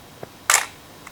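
A Pentax SP1000 film SLR fires its shutter once, a sharp close mechanical clack with a faint click just before and another small tick after.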